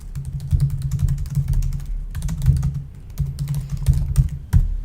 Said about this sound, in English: So I would type out a little description here.